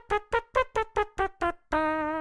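Lip-buzzed mouth trumpet imitation: seven short, punchy staccato blasts in a steady rhythm, then one longer sustained brassy note, close and clear with no talking.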